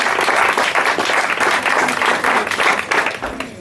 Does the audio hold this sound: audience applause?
yes